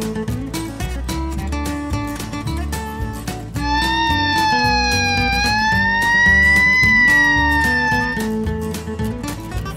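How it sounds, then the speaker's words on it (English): A toy fire engine siren wails in a steady, slightly wavering tone for a few seconds, loud and up front over a busy musical backing that plays throughout. "Fire engine."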